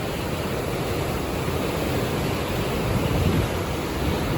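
Water pours out through dam gates into the Jhelum river, a loud, dense, continuous roar of rushing flow with no voices.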